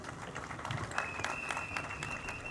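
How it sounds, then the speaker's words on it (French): Soft, distant applause from an audience at an honorary doctorate ceremony, a steady low patter of clapping with a faint tone running through it, no distinct voices on top. "je vous prie de l'applaudir"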